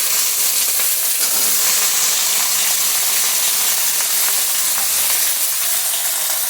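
Potato pieces fry in a pan over low gas, making a loud, steady, dense sizzle and hiss that holds evenly throughout with no voices.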